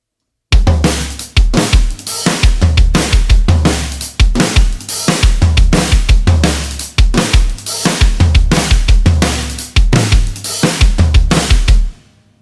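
A full drum kit plays a fast, busy linear groove at 172 BPM with frequent kick drum hits and crisp cymbals, steady and loud for about eleven seconds before stopping.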